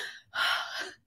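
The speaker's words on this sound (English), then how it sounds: "I'm sorry for all the heavy breathing" A woman breathes heavily, a short exhale followed by a loud, close, drawn-out gasping breath that trails off into quiet.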